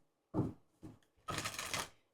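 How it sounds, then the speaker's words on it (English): Tarot cards are shuffled in short bursts, two quick riffles followed by a longer, louder flutter of cards close by, with no talking. "I started shuffling."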